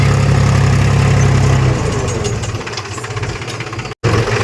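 A loud tractor engine runs close by in a field being ploughed, with a heavy, rumbling drone and rhythmic knocking, steady throughout with one brief dropout near the end.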